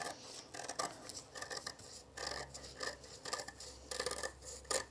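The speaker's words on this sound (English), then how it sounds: "let's see if these scissors will cut fabric" A pair of scissors cuts through fabric while trimming a seam allowance on a sewn paperweight, giving close, crisp snips and rasping slides that come in short irregular bursts with pauses between, and no one talks.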